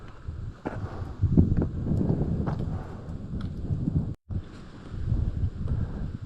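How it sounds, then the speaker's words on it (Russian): A light breeze blows through a ravine among large stone boulders on a hot day, a soft steady rush of wind with low rumbling buffets against the microphone, briefly cutting out near the middle. "По оврагу ветерок дует легкий."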